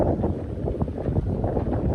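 Wind gusting at Cavite City beach by the sea, a steady low rushing buffet across the microphone with no voices.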